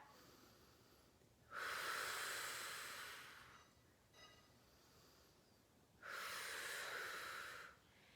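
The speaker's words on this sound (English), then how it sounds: "inhale, relax, fill belly with air, exhale, pull." Deep, slow breaths during a band pull-apart exercise: a long airy inhale or exhale, a pause, then another long breath, close and soft, with no talking.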